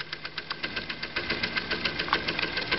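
A scratch-built live steam engine model, fitted with a thicker engine frame and a fire burning in its firebox, runs with steady, evenly spaced chuffing pulses at close range.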